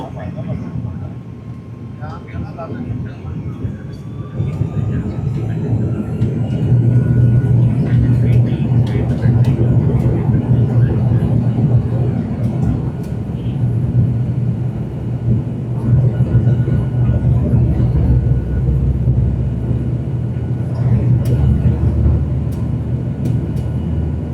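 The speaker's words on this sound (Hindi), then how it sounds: "हम अपना टेक ऑफ रोल शुरू करेंगे और आप सुनेंगे इंजन की गरजदार घन गरज" Airliner jet engines roar loudly and steadily during the takeoff roll at Karachi, building in power, with a deep rumble and rattling cabin noise underneath and faint voices in the background.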